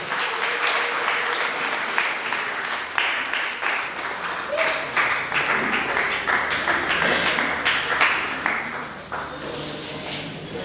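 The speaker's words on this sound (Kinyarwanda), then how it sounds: "Mubaha amashyi menshi cyane mu gihe bari kubikora." A church congregation breaks into sustained applause, dense clapping that continues steadily for about ten seconds with a few louder bursts, while a voice speaks faintly underneath.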